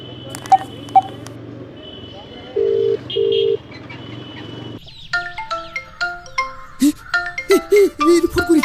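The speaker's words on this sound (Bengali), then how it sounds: "ফোন করেছি।" Phone keypad tones sound as a number is dialled for a call, two brief steady beeps in a fairly quiet room, followed by people talking.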